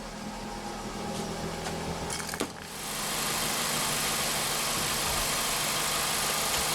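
Jaguar F-Type engine runs at a low steady idle as the car backs out, with a brief clunk midway before the hum swells slightly louder and holds.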